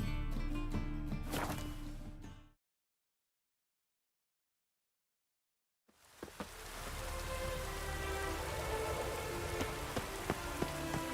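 Steady in-game rain in The Witcher 3: Wild Hunt hisses across surfaces, with a few sharp cracks mixed in. The rain cuts out to full silence for several seconds, then resumes just as dense.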